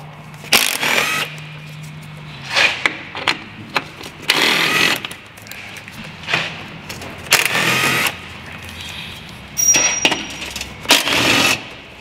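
10 mm bolts come out of a Dodge Dart under body shield in several bursts of a power ratchet or impact tool, loud and close, with short gaps of quiet between them.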